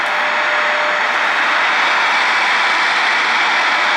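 Steady, dense hiss of shortwave radio static in a home office fills the whole clip, broad and unbroken, with a faint thin tone running underneath.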